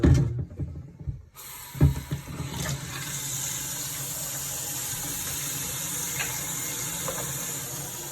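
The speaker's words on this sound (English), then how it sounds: "Go ahead and get some water in." Water pours steadily from a tap into a container of nutrient solution for coco coir, beginning after a short knock and building into a continuous loud gushing fill with no talking.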